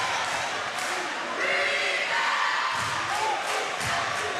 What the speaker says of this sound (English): Central cheer squad getting loud now too.